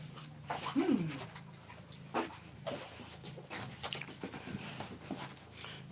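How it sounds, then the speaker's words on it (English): A dog pants in quick breaths close by and gives a few high whimpers, with soft handling noises and light movement around it. "find the dog I'm babysitting here"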